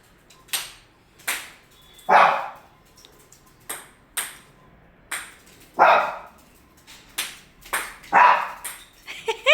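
A pet dog barks in a series of about ten sharp, close barks at an irregular pace, with some louder yelps among them, heard alone in a quiet home.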